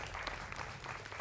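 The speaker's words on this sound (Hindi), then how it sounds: "जोरदार तालियों से मेरे युवा मित्रों का भी अभिनंदन है।" Audience in a TV debate studio on the Bihar election claps in a brief, steady burst of dense applause, heard alone without speech.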